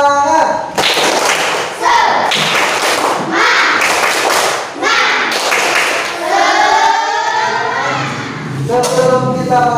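A primary school class performs a rhythmic spirit clap in the classroom, bursts of loud clapping in quick patterned groups with children's voices chanting along.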